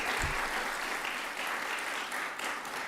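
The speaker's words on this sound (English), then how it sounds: "let's give a big round of applause to those family members and friends" An audience at an employee service award presentation claps in a continuous, moderately loud round of applause, even and sustained throughout.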